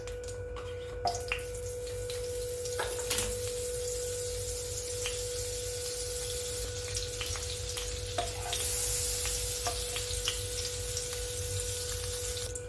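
Half a spoon of white oil and a little butter sizzle in a kadai on a gas stove, a steady soft frying hiss with a constant tonal hum and a few brief clicks, no talking.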